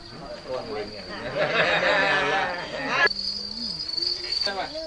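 Crickets at a Thai cricket farm chirp with a steady high trill throughout, while people talk nearby over the insect sound.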